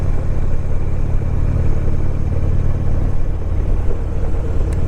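Steady low engine rumble from a motorcycle out on a ride on a damp 51-degree day, constant and close throughout with no breaks or talk.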